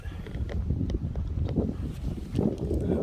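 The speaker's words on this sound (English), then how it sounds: "little windy today." Wind buffets the microphone in low, uneven rumbling gusts while kayaking, with faint rustling and scattered light knocks.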